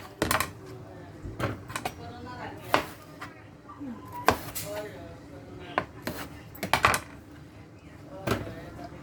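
A knife chops tomatillo into small pieces on a board, giving irregular sharp taps in bursts, fairly close, with a voice talking over part of it.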